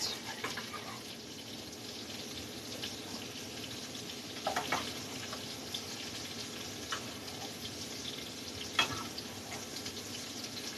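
Risotto frying and bubbling in a pan, with a steady soft sizzle and a few brief clinks and stirring scrapes throughout.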